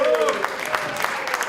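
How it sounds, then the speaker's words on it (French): Brief loud audience applause at an evening event honouring a Thomas Cook travel agency partner, a steady patter of many hands under a short vocal tone at the start. "Je vous demande d'applaudir très fort Lamia"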